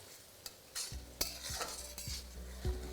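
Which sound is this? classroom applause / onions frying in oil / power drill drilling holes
onions frying in oil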